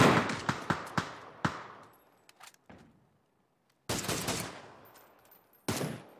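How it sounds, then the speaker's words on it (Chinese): Gunfire in PUBG during a tournament match: a rapid cluster of sharp shots with echoing tails, a short pause with faint pops, then two more isolated loud reports, no talk over it. "听到枪声之后"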